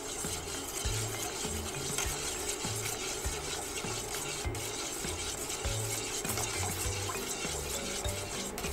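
Plant tissue culture agar medium boiling in a pot on a home stove, giving a loud, steady bubbling and rolling hiss with soft irregular pops throughout.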